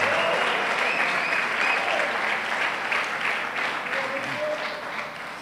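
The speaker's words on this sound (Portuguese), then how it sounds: "aplauda bem forte e dê um brado de júbilo ao nosso Deus" A church congregation applauds hard and cheers, a dense, loud wave of clapping with raised voices that holds steady and then begins to fade toward the end.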